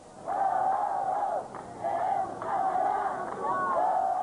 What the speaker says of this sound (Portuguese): As vaias vieram dos artesãos e artistas plásticos impedidos de trabalhar no local